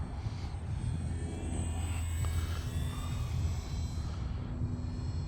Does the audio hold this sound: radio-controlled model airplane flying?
yes